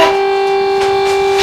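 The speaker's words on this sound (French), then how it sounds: "C'est une sirène. On l'a entendu." A steady, sustained siren tone holds at one pitch, loud and unbroken, like a civil defense siren wailing across a town.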